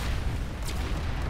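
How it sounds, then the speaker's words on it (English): Gunfire in the Planetside 2 video game, a dense, steady wash of low booming shots and bursts running through the whole moment without a clear break, with no talking. "I shoot him in the back"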